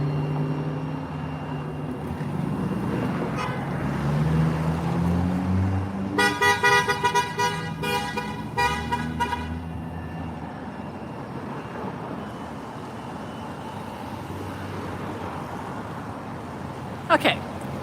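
Distant car horns honk in a quick series of toots at a street protest, with another faint honk near the end, over low traffic rumble and background noise.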